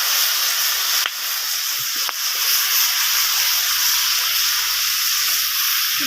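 Ingredients hit a hot, oil-greased kadai in a village kitchen, setting off a steady, loud hiss of sizzling that runs through the whole stretch, with two brief clatters early on.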